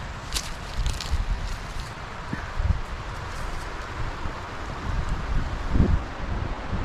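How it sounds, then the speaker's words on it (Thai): Wind blowing through forest leaves while mushroom picking, a steady rustling hiss with gusty swells and a few soft thumps and crackles, likely footsteps or handling nearby, no talk. "ลมใบไม้ปิวระบ้อนเลย"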